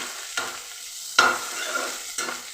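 Broad beans stir-fry in a pan, with soft continuous sizzling broken by three scraping stirs of a spoon at regular intervals, close and fairly quiet, with no talk.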